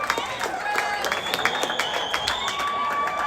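Home crowd at a college hockey rink cheering and clapping after their team's series-finale win, a steady wash of applause with scattered whistles and shouts, loud and sustained throughout.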